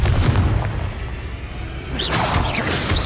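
A Confringo fire spell blasts in the Hogwarts Legacy video game, a loud, deep boom with a rumbling low end that rolls on, followed by a brighter crackling burst near the end.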